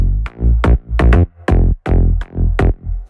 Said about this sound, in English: So here's what that bass sounded like before multiband compression.